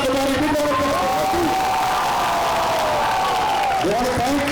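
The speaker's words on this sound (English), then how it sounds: "big round of applause." A college audience cheers and claps loudly and continuously at a celebrity promotional event, with crowd voices and shouts rising over the applause throughout.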